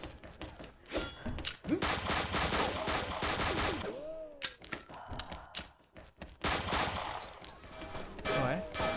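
The Dragon Tail gun in XSHOT fires repeated short bursts, clusters of rapid shots separated by brief pauses, with some metallic clinks and thuds in between.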